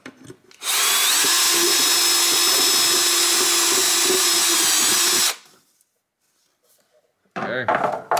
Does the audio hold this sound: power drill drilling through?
yes